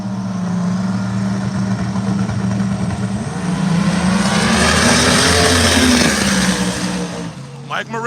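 Drag race cars spool up their engines at the start line of a drag race, a loud, rising mechanical roar that swells toward the middle and fades near the end, with a commentator talking over it.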